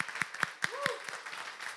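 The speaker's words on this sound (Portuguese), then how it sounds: "uma salva de palmas para as irmãs aí" A few people clap for the sisters at a congregation gathering: a handful of sharp, evenly spaced claps, moderately close, with a voice audible between them before fading into a faint murmur.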